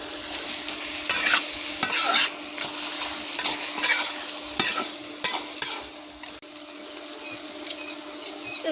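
A spoon stirs cabbage curry with hilsa fish heads in a frying pan, making repeated scraping strokes and clatters against the pan over a constant sizzle. The strokes come in uneven bursts, close and clear, with no speech.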